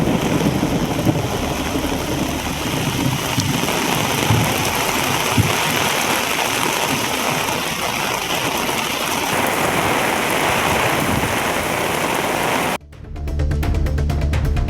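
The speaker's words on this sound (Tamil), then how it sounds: "செங்கல்பட்டு மாவட்டத்தில் பல்வேறு பகுதிகளில் பலத்த மழை பெய்தது." Heavy rain pours across Chengalpattu district, a dense, continuous roar of downpour with wind that holds steady before abruptly cutting off near the end.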